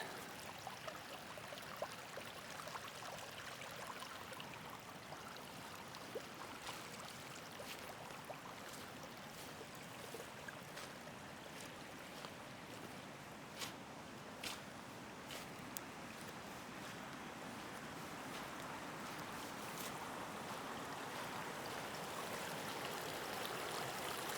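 Water runs steadily through a ditch and under a crossing, a continuous close trickling rush with faint splashes that holds level and alone throughout.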